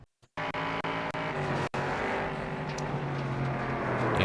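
Race cars in a sports car racing video game replay of a wreck, with a loud continuous engine roar at close range after a brief silence, broken by a short dropout midway.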